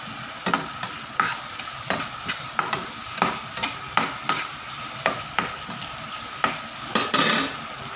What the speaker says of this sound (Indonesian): Kita aduk terus pemirsa.